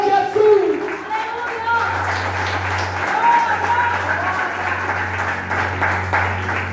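A church congregation applauding in praise, a sustained wash of many clapping hands with voices talking and calling out over it and a steady low hum underneath.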